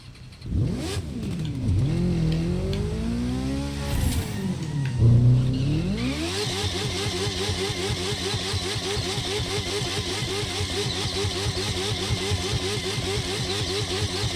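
A motorcycle engine in a video game streamed over GeForce Now starts up, revs high and drops back twice, then holds a loud, steady throbbing idle-like drone for the rest of the time, with no voices.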